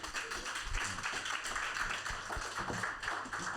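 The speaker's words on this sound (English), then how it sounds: "Applause, please." Audience applause at an esports conference event, a light patter of clapping from a modest crowd, fairly faint and steady for a few seconds.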